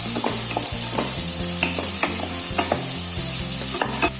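Chopped onions for pav bhaji sauté in a pan with a loud, continuous sizzle, broken by repeated scraping and knocking from a stirring spoon, close up with no voices.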